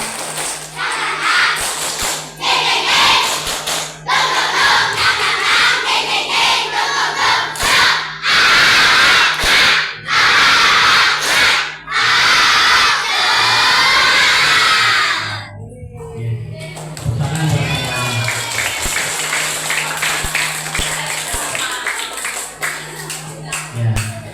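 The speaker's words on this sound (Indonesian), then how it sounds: "Gimana, tepuk semangat?" Class of sixth-grade schoolchildren performing a rhythmic 'tepuk semangat' spirit clap chant, loud group clapping and shouted chanting in bursts, ending with a short pause before a voice resumes.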